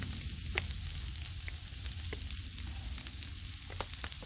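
Shrimp fried rice sizzles on a Blackstone griddle, a steady soft crackle and hiss with scattered clicks of the spatula, fairly quiet, no voices.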